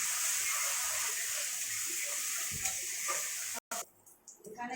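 Masala with turmeric and salt frying for a mutton curry, a steady hissing sizzle with faint stirring that cuts off abruptly near the end, followed by quieter, uneven cooking noise.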